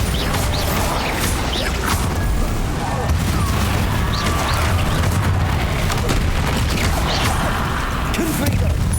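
Bombarda explosion spells in Hogwarts Legacy, a chaotic run of booms, crashes and smashing impacts that continues loud and dense throughout, with a voice mixed into the noise.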